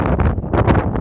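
Wind blows hard straight into a microphone out on the GR 367 trail. It makes a dense, close rumble that swells and dips in quick gusts, with no voices.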